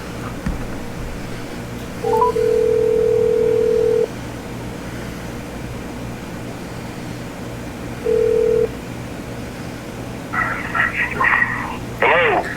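Telephone touch-tone dialing beeps sound twice, first a long tone and later a short one, over steady line hiss, followed near the end by bursts of a ringing tone.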